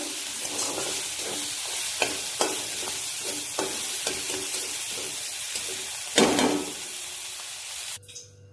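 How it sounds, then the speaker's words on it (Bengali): Shrimp sizzle and crackle in a hot wok, with repeated scraping and stirring strokes and a louder burst of hissing near the end. "চিংড়ি মাছটা কড়াইতে দিয়ে দিলাম, লাল লাল করে ভাজা করে নামিয়ে নেব"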